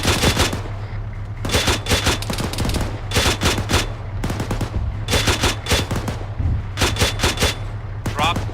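In the video game Arma 3, gunfire comes as dense, loud bursts of automatic fire over a steady low rumble, repeating in clusters throughout.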